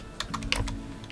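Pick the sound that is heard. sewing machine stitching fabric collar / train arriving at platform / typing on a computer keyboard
typing on a computer keyboard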